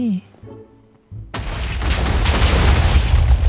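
A Minecraft explosion in zombie survival play: a few spoken words give way to a sudden loud boom and a sustained roaring, crackling blast that keeps building to the end.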